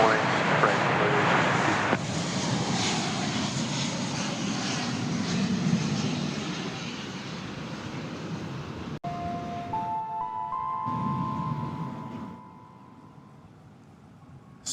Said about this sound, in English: And here comes the big triple on Runway DFW.